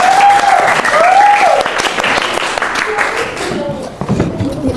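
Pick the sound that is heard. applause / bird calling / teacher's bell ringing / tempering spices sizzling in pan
applause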